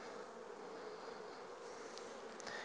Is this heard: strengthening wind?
no